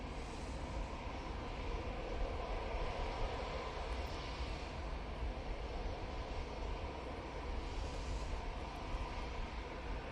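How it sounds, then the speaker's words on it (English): A KLM Embraer E190 jet in from Amsterdam touches down on a runway hump at Manchester Airport, its steady broadband engine roar distant and sustained throughout, with no voices. "KLM Embraer E190 just touching down on the top of the bump"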